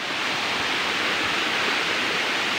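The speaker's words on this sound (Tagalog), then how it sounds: "Ayan yung maliliit na falls" Steady, broadband rushing water from a small waterfall, a constant even roar with no breaks or voices.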